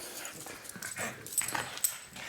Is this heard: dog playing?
yes